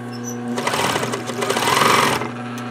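A sewing machine stitching zipper fabric for a small bag: a steady mechanical hum, then a fast rhythmic run of stitching for about a second and a half before it stops, close and clear.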